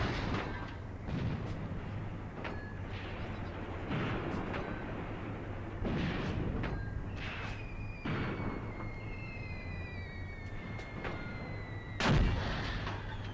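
Howitzer and artillery fire in Graviteam Tactics, a Kharkov 1942 battle, booms repeatedly at irregular intervals over a steady low rumble, with distant whistles and one louder nearby blast toward the end.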